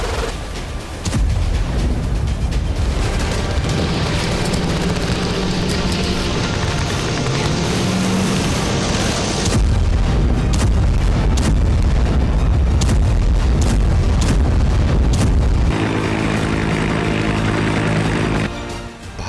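Artillery fire from Indian Army howitzers bought from the United States, heavy booming blasts and gunfire rolling through a loud, dense battle soundscape with a low engine-like rumble near the end.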